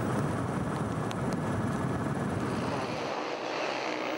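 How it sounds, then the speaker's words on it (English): A KTM 525 enduro motorcycle racing at the Erzberg hard enduro event, heard as a continuous loud engine roar mixed with heavy outdoor noise throughout. "This is Werner Muller on a 525 KTM just ahead of World Enduro Champion David Knight"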